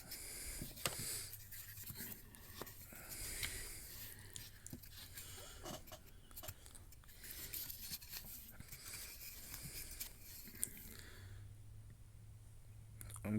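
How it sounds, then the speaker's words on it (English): Roofing paper trimmed at the edges on a freight dock roof, a long run of soft scraping, rubbing cuts and small clicks close by with no talk. "I'm just trimming off the edges of the paper here"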